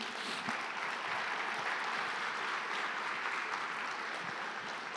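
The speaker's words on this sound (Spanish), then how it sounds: "denle un fuerte aplauso al Señor Jesús" Faint, distant applause from a church congregation standing at a Sunday service, a continuous low wash of clapping with no clear individual claps.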